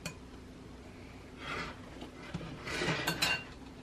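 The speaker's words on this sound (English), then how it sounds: "now stir it all with a fork" A fork stirring homemade slime in a bowl, faint scraping and light clinks of metal against the dish in short uneven bursts, close but quiet.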